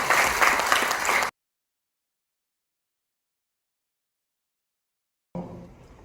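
Audience applause at a political talk show, loud and dense for about a second, then an abrupt cut to silence, returning more faintly near the end.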